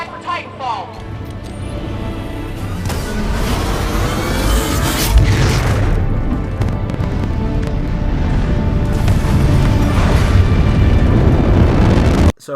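Titan drop impact in the Titanfall 2 video game at an airbase: a sustained, loud roaring rumble with booming bursts building from about three seconds, cut off abruptly at the end.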